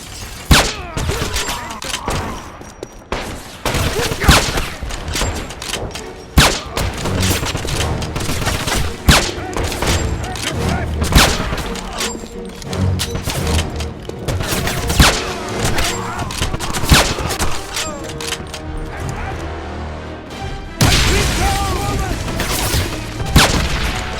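Heavy combat from the Wolfenstein shooter at a train station and dig site, with sustained suppressing gunfire: dense, loud bursts of shots and thumps overlapping continuously, with occasional booms and shouted voices mixed in.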